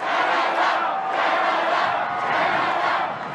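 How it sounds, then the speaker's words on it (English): A large crowd at a Canadian political campaign rally roars and chants, a loud sustained mass of voices swelling in waves across the whole stretch. "It's the crowd that made this an event."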